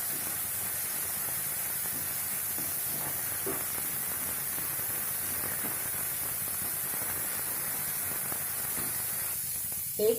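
Vegetable spring roll filling, made without onion or garlic, being stir-fried in a pan, giving a steady close hiss and sizzle with faint scraping stirs throughout and no talk.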